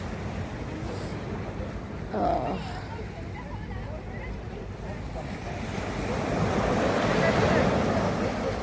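Sea waves roll onto the shore at Digha beach, a broad surf wash with wind buffeting the microphone that swells louder toward the end, with a person speaking over it.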